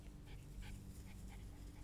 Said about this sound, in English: Look at this little dog.